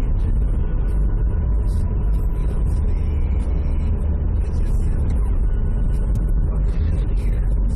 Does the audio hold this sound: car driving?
yes